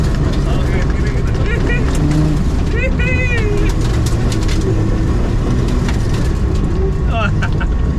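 A Jeep Cherokee drives off-road around a tree, with a loud, steady engine rumble and rolling noise throughout while voices talk over it.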